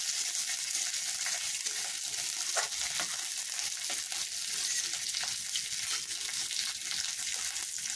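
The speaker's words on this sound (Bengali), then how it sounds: "এগুলো আমি হালকা হালকা করে ভেজে নিতে থাকবো।" Raisins frying gently in a pan over a low gas flame give a steady, close sizzle that runs the whole time, with faint stirring scrapes mixed in.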